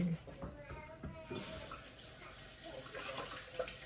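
Cold tap water running into a bowl while making an egg wash for a rhubarb pie crust, a steady splashing flow heard close and moderately quiet, with faint talk at times.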